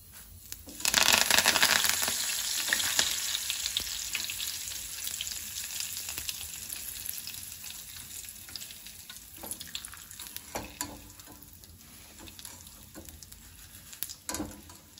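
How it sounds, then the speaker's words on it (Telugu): Curry leaves and dried red chillies for a beetroot spice powder hit a hot pan with a sudden loud crackling sizzle that gradually settles into steady close frying with scattered pops, and no one speaks. "కరివేపాకు కూడా వేయించుకున్నామండి."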